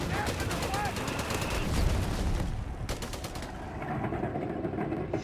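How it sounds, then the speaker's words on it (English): Machine gun fire from the WWII strategy game Company of Heroes 3: dense, rapid bursts crackle in a steady stream, with brief pauses between volleys and layered battle noise throughout. "There you go, machine gun at it."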